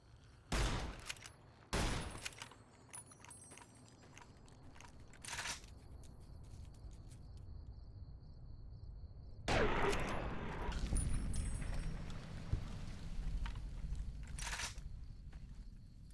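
Gunfire in the video game Fallout: New Vegas: a few sharp shots in the first seconds, then a longer, denser burst of shooting and crunching impacts later, with no talk.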